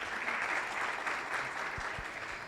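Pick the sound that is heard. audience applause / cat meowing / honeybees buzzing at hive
audience applause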